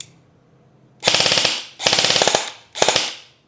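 An airsoft gun fires on full auto with its stock magazine: three loud, close bursts of rapid mechanical shots, each about half a second to a second long, separated by short silences.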